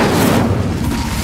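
An Incendio fire spell cast in a video game, a loud, sudden whooshing boom that fills the brief moment and then settles into a rushing roar.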